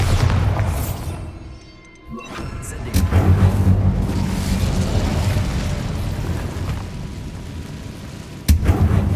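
Bombarda blasting spell cast in Hogwarts Legacy: a loud, rumbling explosion fills the clip, then drops off. A second heavy boom erupts after a stretch of sustained roar, and another sharp burst comes near the end.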